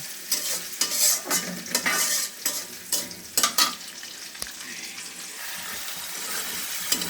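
Onions sizzle in a pan alongside fried fish and lentil bori, a steady hiss of hot oil broken by repeated scraping and stirring strokes, then settling into a gentler fry.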